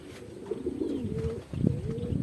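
Pigeons coo in low, rolling phrases, several overlapping calls close by, with a steady outdoor background and no talking.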